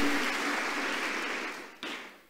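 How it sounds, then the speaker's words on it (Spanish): A church congregation applauds briefly, a soft wash of clapping that tapers off before a short final burst. "Denle un aplauso al Rey."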